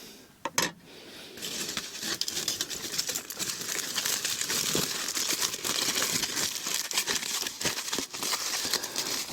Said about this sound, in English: Wrap that foil up.